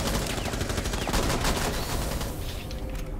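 Rapid bursts of gunfire from the video game Rainbow Six Siege, loud and dense with overlapping shots, filling most of the moment before tapering off toward the end.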